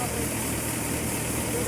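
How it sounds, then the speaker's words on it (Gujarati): A farm tractor's engine holds a steady, even idle with a continuous vibrating drone, while a voice speaks over the running engine. "હા ટ્રેક્ટર જેવો નોર્મલ વાઇબ્રેશન છે."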